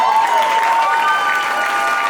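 An audience at a conference applauds the chairmen in the room, a steady dense wash of clapping with light crowd noise throughout.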